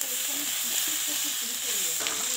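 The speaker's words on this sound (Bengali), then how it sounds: "এবারে আলু দিয়ে দিতে হবে, দিয়ে নাড়াচাড়া করতে হবে।" Potatoes frying and being stirred in oil in a wok with onions, a steady close sizzle with soft scraping stir strokes throughout, no voices.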